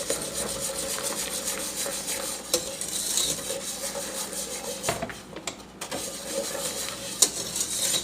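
Eggs are beaten by hand with a whisk in a bowl for Latiya custard, a close, continuous rhythmic scraping and swishing with brief pauses.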